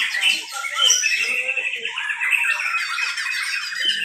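A white-rumped shama (Murai Batu) songbird at a bird-singing contest gives loud, continuous squawks and bright chirping phrases, close by, with a faint voice in the background.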